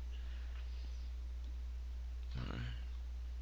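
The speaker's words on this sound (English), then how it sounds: "You can click on that, hit update." A mouse click on an update button in a WordPress dashboard: a single short, faint click lands about two-thirds of the way through, over a steady low hum with no talking.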